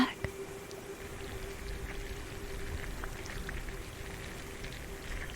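Steady rushing, splashing water of a tropical waterfall pours continuously, a dense close wash of falling water with a faint tonal hum beneath it.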